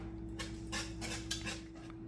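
Blackberry jam is stirred in a pot with a utensil, a soft rhythmic series of scraping, clinking strokes over a steady low kitchen hum.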